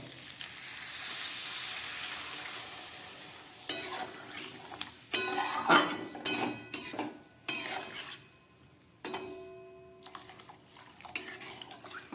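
Water poured into a pan of fried spices for a prawn and elephant foot yam curry: a steady hiss and splash first, then a spoon clinking and scraping against the pan in irregular strokes.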